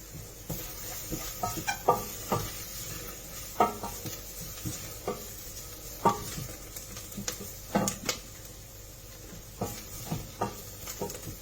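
Garlic added to toasting spices in a hot pan for a tofu vegetable curry, with a soft steady sizzle under repeated sharp scraping and stirring clicks from a utensil against the pan, close by.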